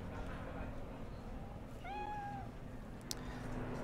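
A hairless cat in the Cyberpunk 2077 video game gives a single clear, rising-then-falling meow lasting about half a second, heard over a steady low game ambience.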